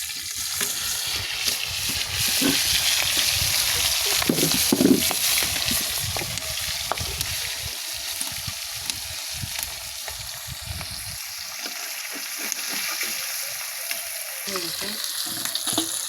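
Fish sizzles in hot oil in a pan in a home kitchen, a steady crackling hiss running throughout with occasional stirring knocks.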